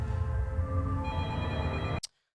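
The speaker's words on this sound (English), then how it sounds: "Bro, the phone's ringing." A telephone rings in a steady, continuous tone with layered harmonics for about two seconds, then cuts off abruptly into near silence.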